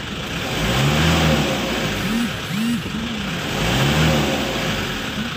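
A car engine with an oil warning light fault and a rough running sound revs repeatedly as the throttle is applied, rising and falling in several loud, close surges.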